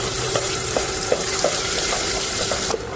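Ground almond, cashew, coconut and garam masala paste sizzles in hot oil with a steady, dense frying hiss and a few soft stirring taps, no talking.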